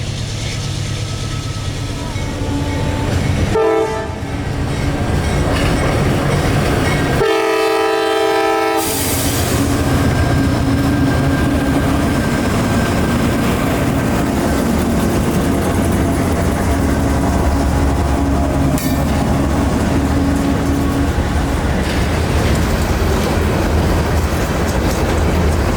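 CSX freight train on the Bone Valley line moving forward, its loud horn blasting twice amid a constant heavy rumble and clatter of wheels and cars, close and dominant throughout.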